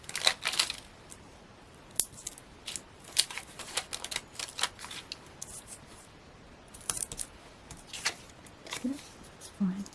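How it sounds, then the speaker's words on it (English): Craft knife slicing thin 2mm foam pads in half on a crafting table, a series of short sharp cuts and scrapes with rustling paper handling between them. "just cut those in half with my knife"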